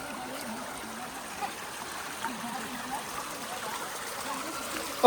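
Steady broadband wash of rainwater running along the ground, continuous and moderately loud with faint voices in the background.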